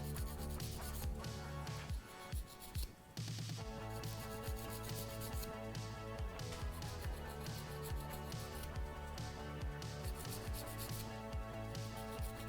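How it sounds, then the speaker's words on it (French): Nail file rubbing across fingernails while refining shape and contours, a steady close scratching rasp that runs almost continuously, with a brief pause partway through, and no voices. "avec ma lime, soit la lime électrique ou la lime manuelle, on va enlever les petites imperfections tout simplement"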